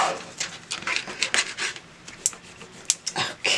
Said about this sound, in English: Alright, burnish that down.